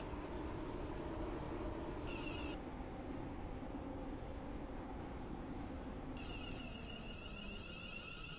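Train pulling into a platform in the Stepford County Railway game, a steady loud rumble of wheels and motors throughout, with brief electronic tones over it near the start and again toward the end.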